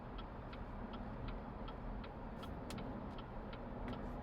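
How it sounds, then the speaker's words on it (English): Inside a BYD Seal cruising on a highway, a steady low rumble of road and tire noise fills the cabin, with a faint regular ticking like an indicator running over it. "As we get to the highway, it's a good test for the road noise."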